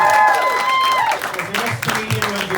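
An audience at a stand-up comedy show applauds throughout, the clapping partly under a host's voice.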